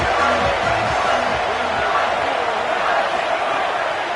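A football stadium crowd roars steadily through a big third down at an Oklahoma versus South Carolina game, a dense, sustained wall of cheering with some nearby voices mixed in.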